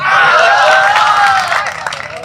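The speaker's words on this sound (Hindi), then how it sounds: "एक बार आप लोग तालियां ठोके" Loud audience applause at a Hindi poetry recital (kavi sammelan), dense sustained clapping from a large crowd that swells briefly and then thins toward the end, with a faint voice or whistle tone riding over it.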